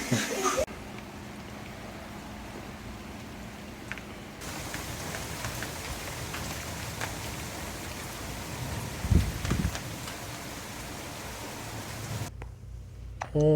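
A steady hiss of white noise from a boom box speaker, rain-like, plays throughout with a few faint bumps and a voice briefly heard, cutting out near the end.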